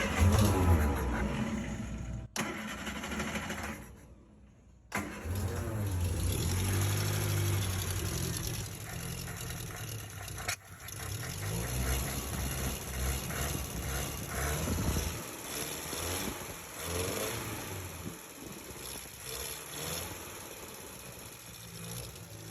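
An old MG car engine idling roughly with the choke applied, a close, steady low rumble that surges and dips unevenly, with a couple of brief stumbles where the idle wavers.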